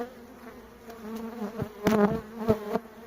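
A low, steady honeybee drone hums throughout at an open hive, joined by louder buzzing bursts and brief clicks and handling knocks near the end.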